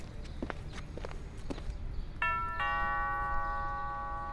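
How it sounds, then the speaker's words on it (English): A doorbell rings with two clear chiming tones after a few soft footsteps, the ding-dong ringing out and fading slowly. "I rang his doorbell"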